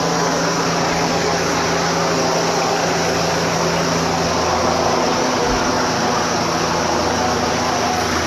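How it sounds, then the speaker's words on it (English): Two police helicopters fly overhead, their engines and rotors making a loud, continuous broadband roar that fills the whole stretch without letup. "There's now a second police chopper above us, so I don't know how much you can actually hear."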